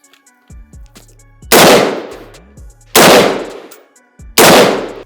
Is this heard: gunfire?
yes